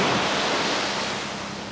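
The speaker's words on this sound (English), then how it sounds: "Right over there, they got big waves close to the shore." Ocean surf breaks near the shore at Windansea Beach in San Diego, a loud, steady rush of churning water and spray that fades slightly toward the end, with no voices.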